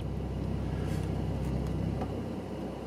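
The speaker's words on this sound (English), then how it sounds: "the car definitely got louder as I touched the exhaust system" A 2020 Porsche 911 Carrera S (992) idling with its exhaust valves open, a steady, deep low rumble that holds evenly throughout at moderate level, with no talking.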